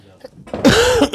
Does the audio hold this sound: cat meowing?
no